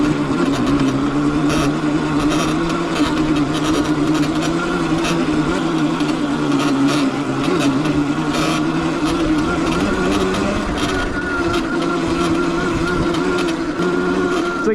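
Fat-tire electric motorbike being ridden, giving a steady loud hum and rush of motor and wind noise that holds constant throughout with no pauses.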